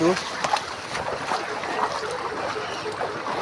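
Floodwater of the Budhabalang river rushing past, a continuous broadband wash with trickles and splashes heard fairly faintly in the open.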